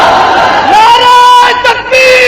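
A large crowd at a religious political gathering in Karachi answers a Takbir call with a loud, sustained chanted shout in unison, voices rising and holding together, then cutting off abruptly.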